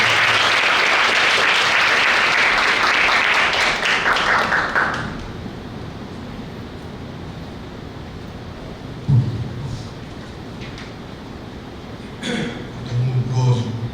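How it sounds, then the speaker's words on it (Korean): Audience applause welcoming a speaker at a church parents' school gathering, loud sustained clapping for about five seconds that stops abruptly, followed by quiet room tone with a few soft bumps and a voice starting to speak. "박수로 맞아주시기 바랍니다"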